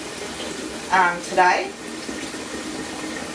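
Warm tap water runs into a pot as it is half filled for hot-pack canning pineapple, a steady rushing hiss that continues beneath a brief stretch of speech.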